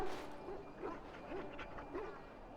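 Dogs in the video game Dragon Age: Origins give a run of short yips and whimpering barks at steady intervals under a noisy background, fairly close and moderately loud.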